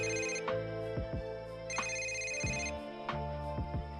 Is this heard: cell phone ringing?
yes